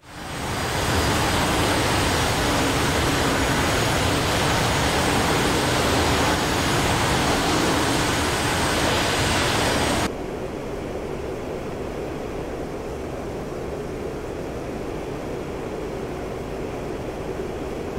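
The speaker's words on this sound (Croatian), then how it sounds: "Sada avion opet zaokreće i vraća se u smjer sjevera." Steady broadband roar of an A-4E Skyhawk jet turning in flight in DCS World, loud and continuous, dropping abruptly to a duller, muffled drone about halfway through and holding there to the end.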